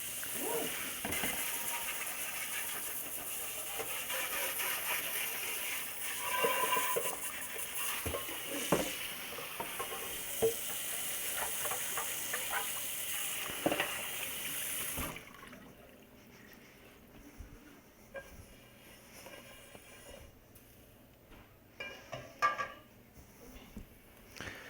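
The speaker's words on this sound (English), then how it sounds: "So now we are going to rinse out our pan." Water poured into a hot cooking pan to rinse it, a loud hissing sizzle for about fifteen seconds that drops to quieter splashing and a few clanks of the pan.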